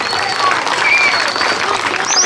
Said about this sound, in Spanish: Un aplauso, por favor, señores.